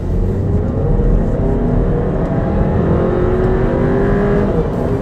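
An Audi Q2 in sport mode revs hard, its engine note climbing steadily and loud from inside the car, with a constant road and engine hum underneath.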